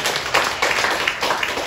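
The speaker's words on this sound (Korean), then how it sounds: "하나님께 감사함으로 박수로 영광을 돌립시다" A church congregation at a Sunday worship service breaks into applause, a dense, steady wash of many hands clapping that fills the whole stretch at fairly high volume without a break.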